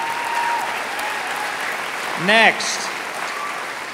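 An audience at a Kansas City climate rally claps in a sustained burst of applause, with a brief spoken word from the speaker cutting in over the clapping partway through.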